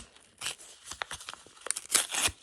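Paper crinkles and rips in short bursts as a packet is torn open, close up, with a few louder tears near the end.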